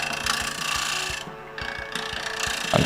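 A lathe tool makes light basic cuts on a fiddleback claret ash bowl, giving a repeating rhythmic ticking knock as the blank spins under a steady broadband scraping hiss.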